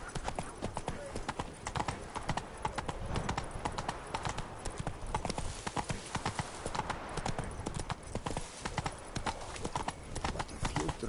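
A horse gallops in The Witcher 3 on PS4, with rapid rhythmic hoofbeats pounding continuously throughout, while voices speak over the galloping.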